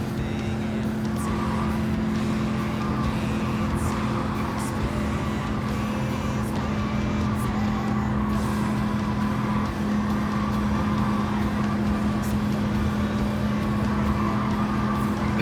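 Race cars with turbo in the video game Gran Turismo 7 roar at a constant drone with a steady engine whine, close and unbroken, with faint clicks along the way.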